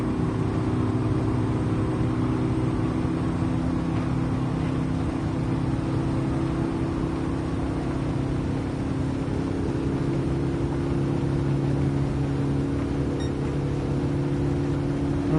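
A race car engine in Gran Turismo 7 holds a steady, loud full-throttle drone with a constant high pitch and no shifts or lifts.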